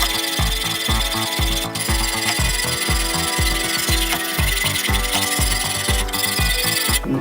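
A knife being ground on Wicked Edge GO 200 grit stones, with steady back-and-forth rasping strokes in an even rhythm, close and fairly loud, with no talk.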